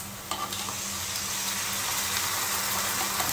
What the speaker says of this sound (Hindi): दही को मैंने अच्छे से फेंट लिया है और अभी हम लोग दही डालेंगे